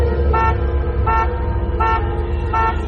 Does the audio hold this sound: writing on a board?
no